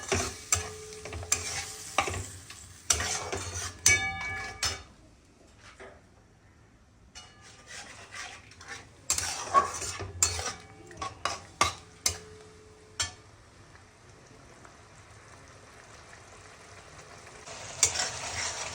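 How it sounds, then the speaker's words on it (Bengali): Mourola fish curry (jhal chorchori) is stirred and sautéed with a little added water in a pan, giving soft sizzling under bursts of utensil scraping and clinks against the pan, with quieter gaps between stirring spells. "একটু জল অ্যাড করে আবার ধীরে ধীরে কষাবো।"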